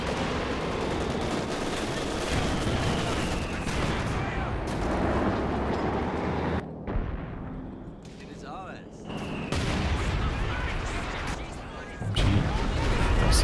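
Katyusha rocket artillery barrages roar in the Company of Heroes 2 video game, a dense, loud rumble of explosions and gunfire that briefly dips before surging again.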